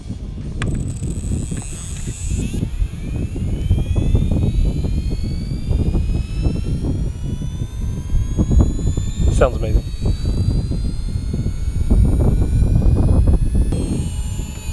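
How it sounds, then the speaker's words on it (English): Losi Promoto-MX RC motorcycle flywheel spooling up: a thin, steadily rising mechanical whine climbs in pitch over a constant rumble of handling and background noise, with people talking throughout. "And now the flywheel kicks on, and we give it 30 seconds to spool up."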